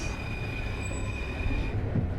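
A Paris metro train rumbles through Gare du Nord station, with a steady low roar and a thin high-pitched wheel squeal running over it, close and continuous.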